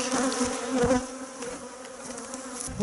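Honeybees buzz steadily and closely at a hive in spring, a continuous dense drone with slight swells and no voices.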